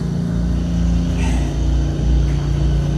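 A portable storage building on wheels being driven with people riding inside: a steady, loud engine rumble with a slight rise in revs, close and continuous, with no talking.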